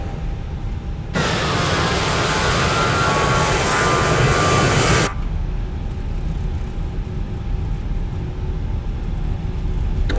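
Fenix A320 airliner taxiing in Microsoft Flight Simulator 2020, a broad steady engine roar swelling loudly for a few seconds before settling back to a lower continuous hum, with no talking.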